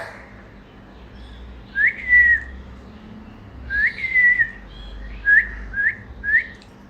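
A pet bird named Hero whistles in a few short, clear bursts separated by pauses, fairly close and loud against a quiet room, with no talking.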